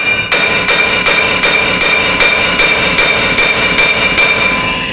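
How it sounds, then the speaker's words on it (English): Small hammer tapping steadily on a wheel bearing of a 2021 Ram 2500 with the 6.4 HEMI, about a dozen sharp metallic strikes at an even rhythm, close and loud with ringing overtones. "You think we could just give it a couple love taps with a teeny tiny hammer and let it hit the floor?"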